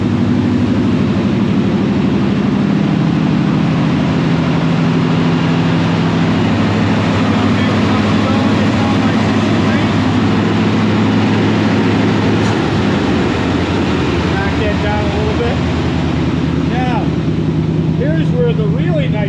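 A car engine idles steadily after starting, a low continuous rumble warming up, with a person talking intermittently over it and some clanking near the end.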